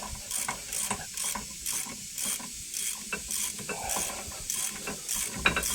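Ratchet tightening brake bolts on a Fiat Ducato van, a quick run of rhythmic clicking strokes in regular bursts, close and moderately quiet, with no talking.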